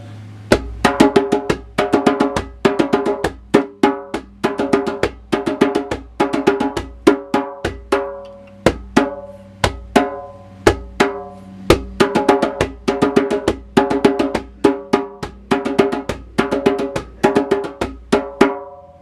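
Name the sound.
drum playing heartbeat rhythm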